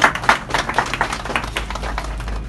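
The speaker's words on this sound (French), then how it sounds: "Applaudissements." Steady, dense applause fills the room at the official ribbon-cutting opening of the BK Création boutique in Angré, a continuous patter of many hands with a low rumble underneath and no clear speech.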